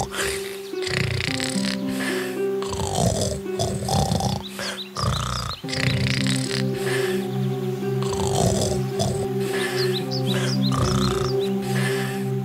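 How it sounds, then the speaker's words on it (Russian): A cartoon wolf lying under a tree snores loudly, with repeated long, rasping, grunting breaths in a slow rhythm over light background music. "Волк улегся под деревом и громко захрапел."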